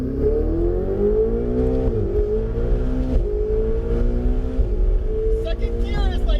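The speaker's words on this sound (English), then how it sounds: "I am hitting the rev limiter on the straight there" Ferrari 488 GTB engine climbing through the gears on a race track, rising harmonic whines that repeatedly build and drop at shifts, steady inside-car loudness with a driver talking over it.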